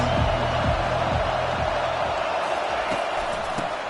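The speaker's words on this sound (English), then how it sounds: "They challenge this crowd to bring the energy, and I'd say they're doing that." A football stadium crowd roars in a steady, dense wash of cheering that holds loud throughout, with a few dull thuds near the start.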